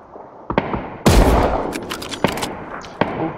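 Gunfire in the video game PUBG: sharp single shots and a dense burst of rapid fire, loud and close, with a few scattered reports after it and no talking.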